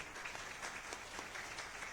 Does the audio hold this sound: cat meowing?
no